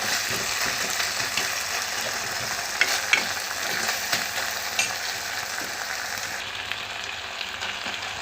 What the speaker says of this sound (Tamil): இந்த மாதிரி நல்லா வதங்கணும். இன்னும் கொஞ்சம் நல்லா வதங்கட்டும்.